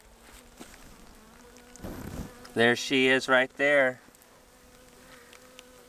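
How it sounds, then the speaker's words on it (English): A constant low buzzing of many bees and drones inside a hive from a swarm fills the background while a person speaks briefly in the middle. "A lot of bees in here."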